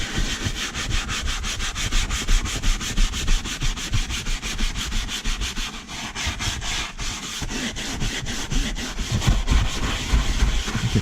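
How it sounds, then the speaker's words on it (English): Horsehair brush scrubbing car seat upholstery during interior detailing, rapid close rhythmic back-and-forth rubbing strokes at a steady brisk pace, loud and continuous, with no talking. "And you just take this horsehair brush"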